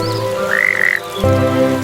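A frog in a fairy-tale scene gives a close, loud croak set against a steady musical backdrop, with a bright chirping tone sweeping in and then falling away partway through.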